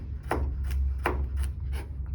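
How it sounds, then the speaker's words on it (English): Knife chopping mirepoix vegetables on a cutting board in a cooking lesson: five crisp, evenly spaced chops over a steady low background hum. "so I'm just chopping up my mirepoix"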